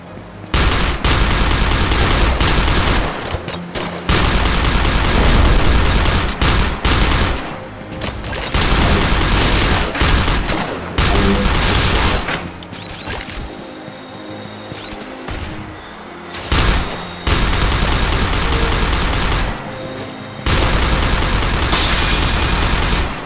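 Gunfire in the GI Joe Operation Blackout video game, with loud, dense bursts of automatic fire and booming shots that run almost continuously and pause only briefly, close and heavy throughout.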